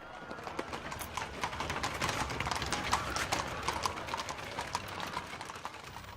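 Many hooves clip-clop in a busy, irregular patter, like several horses moving on hard ground, steady and fairly close.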